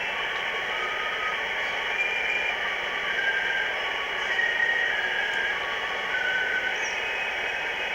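Steady digital-mode decode tones from a ham radio on a magnetic loop antenna hold as a continuous high-pitched hiss and drone, with brief faint tonal blips over the top and no voices.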